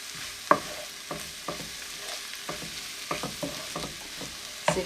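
A spoon stirs leeks, garam masala and a teaspoon of curry in a pan, giving soft irregular scrapes and taps over a light sizzle, close and fairly quiet.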